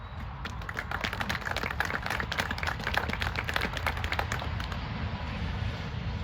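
An audience applauds at a college event marking a truck driving program expansion. The clapping is a steady, crisp flurry of many hands at moderate distance, holding an even level for several seconds.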